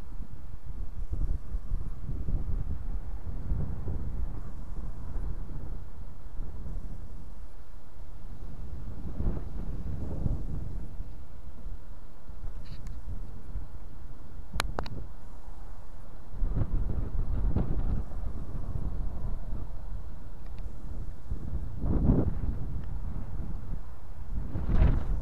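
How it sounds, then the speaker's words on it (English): Wind buffets an action camera's microphone outdoors, making a steady low rumble with gusts that swell and fade for the whole stretch. No one speaks. "It's nice and windy."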